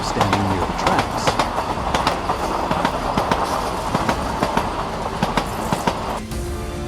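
A high-speed train rumbles past close by, braking near a flock of sheep on the tracks, wheels clattering in a rapid, steady rhythm under a loud continuous roar that drops off near the end.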